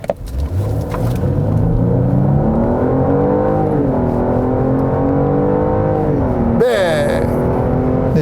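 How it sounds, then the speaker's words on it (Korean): A Genesis G80 3.5 Turbo AWD accelerating hard in manual sport mode, heard from the cabin as a loud, steady engine roar that climbs in pitch, drops briefly at a gearshift, then rises again, with a sharp burst near the end. "이번엔 스포츠 모드에서 수동 모드로 한번 급가속을 해보겠습니다."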